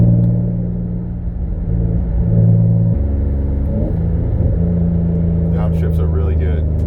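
Low engine rumble from an Infiniti G35 Coupe with a six-speed manual and a single-piece aluminum driveshaft, cruising steadily with a gear-change dip partway through.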